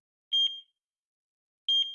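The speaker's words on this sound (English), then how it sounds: "I could hear a monitoring device near her beeping at regular intervals." Two short, high electronic beeps from a medical monitoring device in a hospital room in the game Chaos;Child, spaced about a second and a half apart with silence between them.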